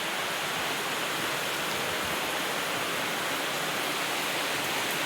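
Heavy rain pours hard, a dense, steady broadband roar of rushing water that holds at the same level throughout with no voices.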